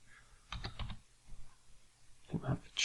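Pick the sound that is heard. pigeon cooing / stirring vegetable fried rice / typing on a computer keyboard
typing on a computer keyboard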